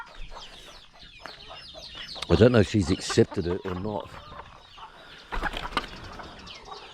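Ducks and other fowl in a farmyard cluck and call intermittently, with a loud burst of bird calls and possible wing flapping in the middle, heard close by under a person talking.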